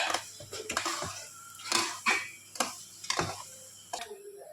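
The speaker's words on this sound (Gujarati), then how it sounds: "પછી એને પાછું હલાવવાનું જેથી ખાંડ ઓગળી જાય" A spoon stirs semolina sheera with sugar in a pan, scraping and knocking against the metal in repeated strokes about every half second, close up and alone.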